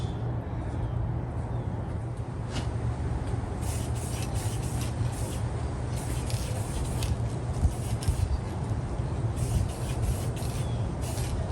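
A spray can lays a second coat of paint on a restored All Timer Model 549 toy drill, producing a continuous steady hiss that runs throughout at moderate level with slight fluctuations.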